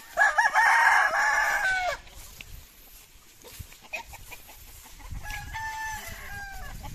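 A fighting cock crows loudly up close, then after a quieter stretch of farmyard noise another crow rings out a bit farther away.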